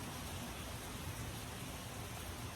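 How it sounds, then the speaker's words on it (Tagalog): Heavy rain pours down as a steady, even wash of hiss, unbroken and fairly quiet in the mix, with no voices over it. "Malakas ang ulan ngayon."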